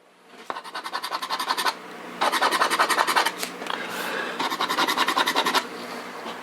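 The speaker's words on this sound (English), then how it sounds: "a sharp edge of this can opener. If I press hard, I can just start scraping" The sharp edge of a can opener scrapes cured satin paint, pressed hard in three rhythmic bursts of quick rasping strokes, close and clear.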